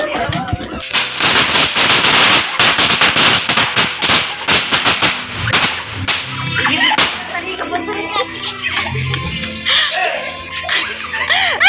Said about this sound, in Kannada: ಇದು ಸಿಂಚನ್ ಪಟಾಕಿ ತುಂಬ ಚೆನ್ನಾಗಿತ್ತು.